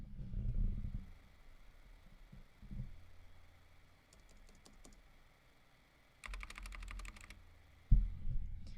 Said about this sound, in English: where you can hear the keyboard, but it's not as loud